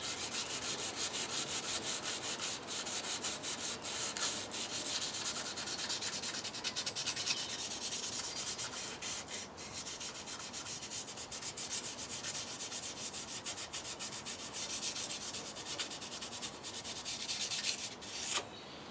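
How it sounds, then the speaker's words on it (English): Abrasive scrubbing works surface rust off a knife blade in a continuous close rasping hiss of rapid strokes, steady and alone for the whole stretch. "So I'm just going to spend another sort of 30 seconds just cleaning off the other side of the knife"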